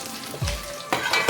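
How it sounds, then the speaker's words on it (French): Fish heads and skins of bifaga fry in oil at the bottom of a cooking pot for a gombo sauce. A soft sizzle runs under a low thump and a stirring scrape, then swells brighter near the end. "on va faire revenir au fond de la marmite les têtes et les peaux du bifaga"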